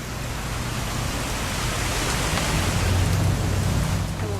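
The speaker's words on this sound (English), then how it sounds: "It's gonna rain the whole weekend," Steady rain falls in What Remains of Edith Finch, a dense, even hiss of drops that holds at a constant level throughout with a low rumble underneath.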